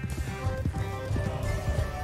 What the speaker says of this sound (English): These are like working horses.